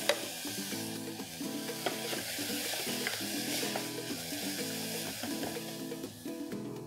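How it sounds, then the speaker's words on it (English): Finely chopped cauliflower, capsicum, carrots, cabbage, tomatoes and mushrooms cooking in a pan for vegetable soup, a soft steady sizzle with faint stirring scrapes under a low background hum, fairly quiet. "let the vegetables cook for a minute"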